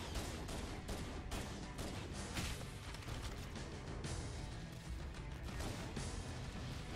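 Dense, continuous gunfire in the shooter game Halo, aimed at a Hunter enemy, with rapid bursts and crashes filling the whole stretch at a loud, steady level.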